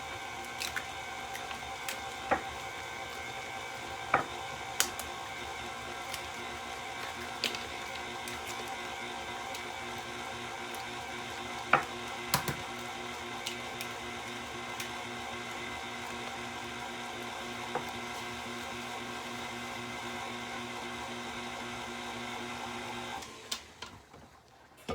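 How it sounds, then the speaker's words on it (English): Four large eggs cracked and dropped one at a time into a cake batter bowl: a few sharp, isolated cracks and soft squishes spaced out over a faint steady background hum, with no talking. "I'm going to go ahead and crack the eggs"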